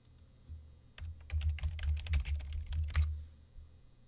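A part number search is typed on a computer keyboard, with a quick close run of clicking keystrokes lasting a few seconds, alone in a quiet room.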